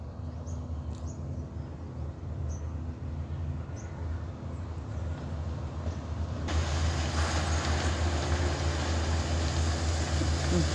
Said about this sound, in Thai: เขากำลังรถดูดอ้อยเอาอ้อยเทใส่รถอยู่นะคะ